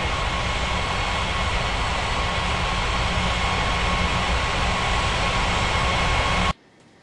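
Airliner landing at Bali's Ngurah Rai airport in the game Unmatched Air Traffic Control, a loud steady jet engine roar held at one level that cuts off abruptly near the end.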